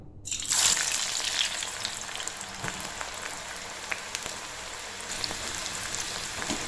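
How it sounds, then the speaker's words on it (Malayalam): Onions crackle and sizzle steadily in hot oil, a dense hiss starting just after a brief silence and continuing close and even. "ഇപ്പം എന്താ നമ്മുടെ എണ്ണ ചൂടായിട്ടുണ്ട്. ഇതിലേക്ക് നമുക്ക് സവാള ചേർത്ത് കൊടുക്കാം."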